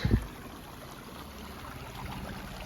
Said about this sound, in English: What a glorious little creek.